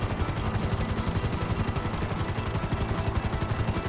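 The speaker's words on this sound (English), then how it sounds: "Just like that, we were able to flip our helicopter" An in-game helicopter in GTA V flies and flips, its rotor chopping in a fast, even pulse that stays loud and close throughout with no voices over it.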